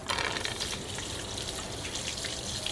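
Water rushes steadily out of a bottle draining through a straw, a continuous gushing, splashing flow that stays fairly loud and even for about three seconds with no talking.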